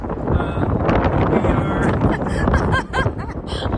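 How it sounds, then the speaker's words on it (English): Strong wind near Flagstaff, Arizona buffets the microphone in a steady, loud roar, with a voice talking underneath throughout. "It's super windy."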